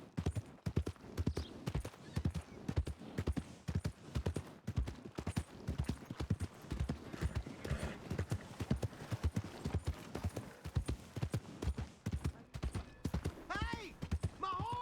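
A horse in the Western video game Red Dead Redemption 2 clip-clops steadily along in a brisk, even rhythm of close hoofbeats, continuing alone throughout with a faint creak of tack.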